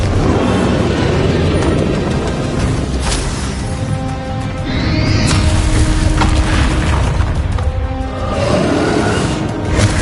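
Spell blasts from the Bombarda charm in Hogwarts Legacy, a dense, loud run of booming explosions and crashing debris lasting several seconds, with swells and bursts layered over a steady rumbling game soundscape.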